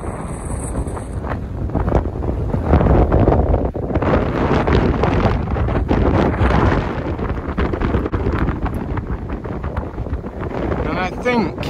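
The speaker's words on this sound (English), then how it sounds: "I think it's about a 40 mile an hour wind plus" Strong wind of about 40 mph on an exposed hilltop at High Cup Nick, England, buffets the microphone with a loud, continuous, rumbling roar that swells and eases without letting up.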